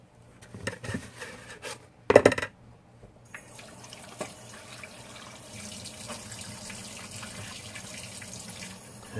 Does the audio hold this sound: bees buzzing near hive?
no